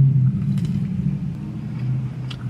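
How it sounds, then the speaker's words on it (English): Car engine rumbling loudly nearby near a car meet across the street, a steady low drone holding for a couple of seconds with no one talking. "I hate when people drive obnoxious with their cars."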